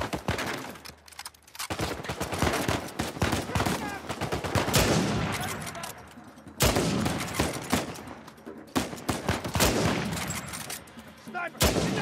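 Heavy gunfire in the Uncharted 4 action game, dense automatic bursts mixed with sharper single sniper cracks, loud and continuous over about twelve seconds, with shouted voices in between.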